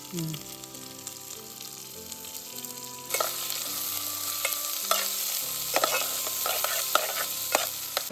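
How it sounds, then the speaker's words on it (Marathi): Garlic cloves and chopped onion hit a pan at an outdoor treehouse camp cooking egg biryani; a low murmur gives way to a louder, continuous sizzle with repeated scraping stir strokes. "आता लसणीचे पाकळे टाकू आपण. कांदा टाकूया, थोडा फ्राय करून घेऊया."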